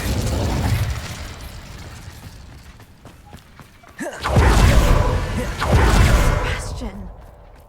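The Incendio fire spell cast in Hogwarts Legacy: quieter game ambience gives way to two loud, roaring whooshes of flame bursting out in quick succession.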